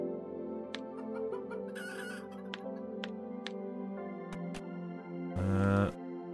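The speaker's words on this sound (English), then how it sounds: "I want to kill this chicken." Chicken clucking in the video game Planet Centauri, short repeated clucks and squawks over busy game music and effects, ending with a louder burst of noise.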